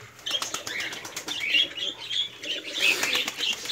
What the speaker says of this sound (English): You can see those doves of different colors.